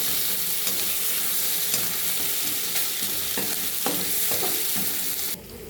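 Spices for masoor dal fry in hot oil in a pan with a loud, steady sizzle, broken by intermittent scraping stirs, before the sizzling drops off sharply at the very end.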